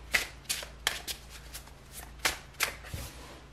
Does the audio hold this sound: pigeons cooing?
no